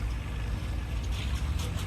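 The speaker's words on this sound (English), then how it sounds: "Bill Stoker operating that four-cylinder 260 cubic inch engine" An antique tractor with a four-cylinder 260 cubic inch engine pulls a transfer sled in a 4000 to 4500 pound class, giving a steady, heavy low engine rumble that holds without a break.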